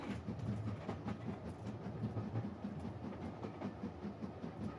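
Rhythmic clickety-clack of a moving train in the video game If on a Winter's Night, Four Travelers, heard from inside a carriage as a steady, moderately quiet rumble with regular wheel beats and no talk.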